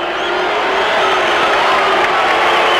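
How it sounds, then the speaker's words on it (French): Stadium crowd at the 1984 Olympic football final between France and Brazil, a dense, loud roar of mixed cheering, applause and whistling sustained throughout. "une partie du public applaudit, une partie du public siffle"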